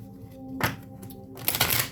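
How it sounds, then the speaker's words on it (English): Tarot cards being shuffled by hand, two quick riffling bursts with brief pauses between, close and crisp, no voices. "I'm going to shuffle these up."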